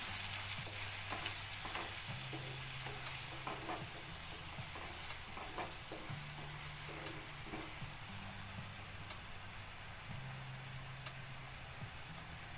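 Dal with chopped dhemsa (tinda) is stirred in a pan with chili powder and salt, giving a constant close sizzle with soft scraping strokes over a low steady hum.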